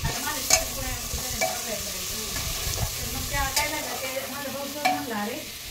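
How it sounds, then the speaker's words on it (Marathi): Tempered rice (phodnicha bhaat) is stirred in a pan while it cooks, with repeated scraping strokes over a soft, steady sizzle, close and fairly quiet, with no talking. "मस्त फोडणीचा भात बनवतायत काकू."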